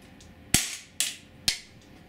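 Three sharp, evenly spaced pops from a Walther PPS 4.5mm CO2 blowback air pistol, each a crisp crack with a short mechanical snap, fired in quick succession close to the listener.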